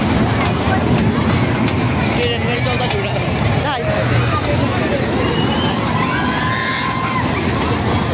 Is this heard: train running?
yes